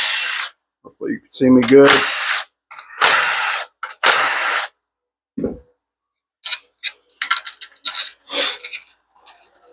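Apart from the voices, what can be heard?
tool removing bolts from 4R100 transmission valve body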